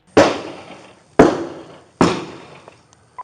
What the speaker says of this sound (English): Shooting out the rear window toward my direction.